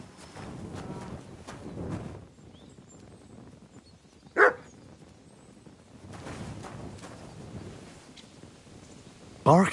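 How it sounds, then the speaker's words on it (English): A dog barks in a video game, a couple of sharp barks standing out over a busy background of game sound and rustling. "Barking?"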